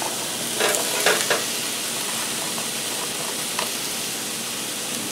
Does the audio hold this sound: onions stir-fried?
yes